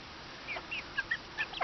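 Red egg-laying hens cluck quietly in a backyard garden run, a series of short, faint calls spaced about a quarter second apart.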